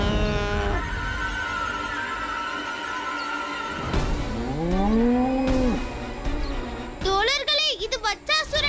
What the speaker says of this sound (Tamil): காளை வருகிறது